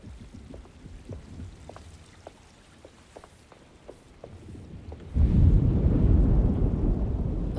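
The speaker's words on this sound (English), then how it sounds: "Looks like a storm's coming." In the PS5 horror game Alone in the Dark, faint regular ticks give way to a sudden, loud, deep rumble of thunder from an approaching storm, which rolls on steadily to the end.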